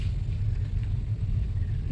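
A manual car rolls slowly over a small speed breaker, giving a steady, close low engine rumble inside the cabin with slight bumps in level and no voices.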